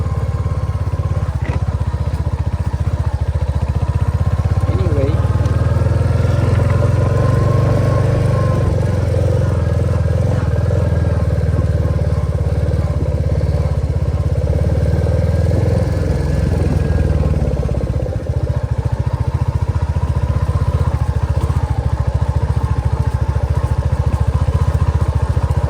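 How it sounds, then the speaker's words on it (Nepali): A Bullet motorcycle rides a rough, dangerous dirt road in Nepal, its steady thumping engine loud and close for the whole stretch, with rattling clatter from the bumpy track and no talking. "सरर बुलेट बाइक चढेर"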